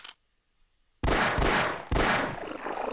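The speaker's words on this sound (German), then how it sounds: "Das ist eine Kanone." Two heavy booming cannon blasts in the video game Half-Life, each a sudden loud explosion with a long rumbling decay, the second following just under a second after the first.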